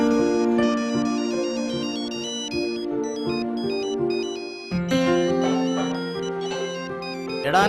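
A phone ringtone plays as a bright, repeating electronic melody, loud and close, with a brief pause near the middle before the tune resumes, no one talking over it.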